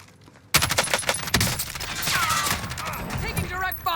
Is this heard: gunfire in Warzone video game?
yes